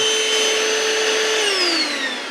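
A cordless vacuum cleaner running on a DIY lithium-ion battery pack whines loudly and steadily up close, then its pitch slides down as the motor starts to wind down.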